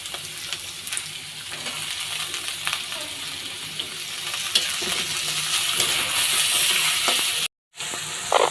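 Chopped potatoes frying with already-fried onion, seasoned with salt and turmeric, for Bangladeshi home cooking: a loud, continuous sizzle with spatula scrapes and stirring knocks, cut by a brief silence near the end.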